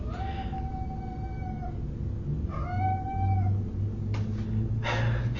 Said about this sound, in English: So my cat is just going to keep meowing.